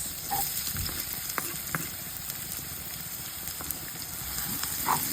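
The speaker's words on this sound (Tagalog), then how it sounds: "Magigisa na tayo." Garlic and onion sautéing in oil for beef pares, a steady close sizzle with occasional stirring clicks and scrapes throughout.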